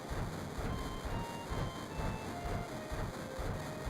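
Steady rumbling ride aboard a train in Final Fantasy VII, a continuous low rolling drone with rhythmic wheel thumps on the rails and faint high tones, heard alone at moderate level.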